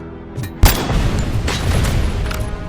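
A grenade explodes in RoboCop: Rogue City, one sudden loud blast that rolls into a long rumbling tail of scattered crackles and debris.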